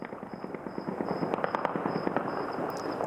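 Bursts of celebratory gunfire and firecracker-like pops crackle over Kabul, a dense run of sharp reports rolling steadily, some close and loud, others distant, with no talk.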